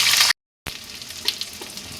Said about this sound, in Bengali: এবার আমি একটু ওই ঘিতেই আলুগুলো ভেজে নিচ্ছি